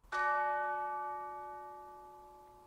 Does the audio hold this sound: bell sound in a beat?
yes